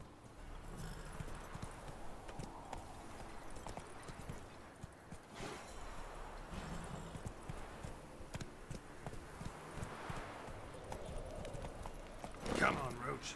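Roach, the horse in The Witcher 3, trotting with a steady clip-clop of hooves over game ambience, a voice speaking at times and a brief louder swell near the end.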